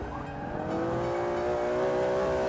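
A Ferrari supercar engine in the Forza 5 racing game revs hard, a loud continuous drone that climbs steadily in pitch as it accelerates, with faint tire squeal underneath and no talking.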